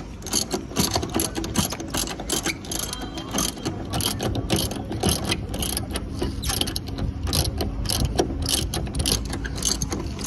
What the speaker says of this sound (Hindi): अभी इधर का दो बोल्ट बच रहे हैं, इसको खोल रहे हैं